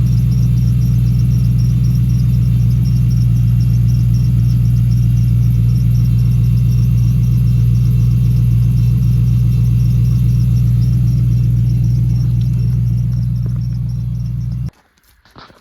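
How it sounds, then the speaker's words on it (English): A 1997 Ford F-150 with an added turbo idles steadily and loudly up close, a deep constant rumble with a faint turbo whine on top, cutting off abruptly near the end. "Turbo's spooling, had a little idle."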